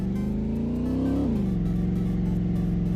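A Dodge car in the War of the Worlds video game drives with a steady engine drone that rises, dips as it shifts near the middle, then holds a constant hum, loud and close with no talk.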